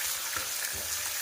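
Onion dropped into hot oil in a pan of fish curry, a bright steady sizzle with a brief rustle and stir as the pieces hit the pan, close and alone.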